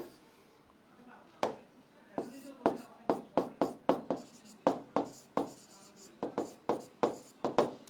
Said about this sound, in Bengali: এখানে আমি একটা বিষয় লিখি